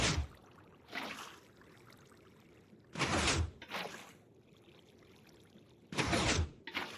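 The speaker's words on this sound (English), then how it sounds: "Just keep placing the water." Water poured from a bucket in Minecraft while building a kelp farm: four separate splashy whooshes at uneven intervals, each under a second, with quiet gaps between and no talking.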